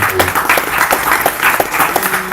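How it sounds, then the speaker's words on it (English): Audience applause fills a hall during a Ram Navami devotional Ram Katha and bhajan gathering, dense, steady clapping at close range. "So please give a big round of applause to Navami Prabhu, Govind Prabhu and Prashant"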